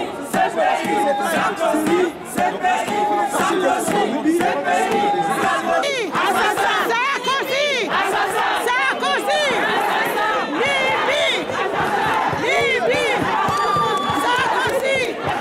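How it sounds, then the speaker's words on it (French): Angry crowd at a rally outside the Libyan embassy in Paris, loud continuous shouting and chanting voices overlapping throughout, close and dense. "C'est une foule sous le choc, très remontée, qui nomme publiquement l'homme par qui ce fléau est arrivé."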